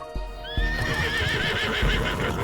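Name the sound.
horse galloping in video game Love and Deepspace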